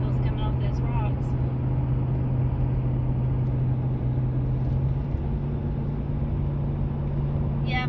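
A car pulling a trailer drives along a road, a steady loud cabin rumble and low engine drone with road noise throughout, and people talk over it.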